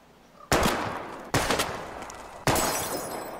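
Three loud gunshots are fired at targets in Life is Strange, each a sharp crack with a long ringing tail, spaced about a second apart.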